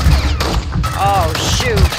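Gunfire in the Call of Duty: Modern Warfare II Warzone 2.0 DMZ video game, a loud burst of rapid shots and booms mixed with game effects, while a player's voice is heard over the action.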